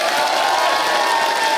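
A studio audience at a live comedy show greets a singer with loud, sustained cheering and applause, a dense roar of clapping and whoops with no pause.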